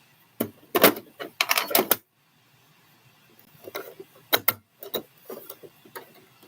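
Short bursts of a sewing machine top stitching a scrub top, rapid mechanical clatter in two or three runs separated by quiet pauses and small handling clicks.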